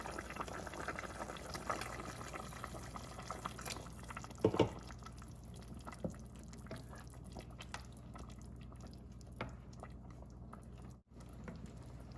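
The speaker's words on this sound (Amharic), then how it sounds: "ትንሽ ስለወፈረ ትንሽ ውሃ ጨምርበታለሁ።" Water added to a pot of Ethiopian fosoliya soup, a faint, soft liquid trickle and bubbling with a few small clinks, quiet and close with no talk.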